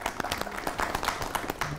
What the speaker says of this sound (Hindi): तो उनके लिए भी खास तालियां।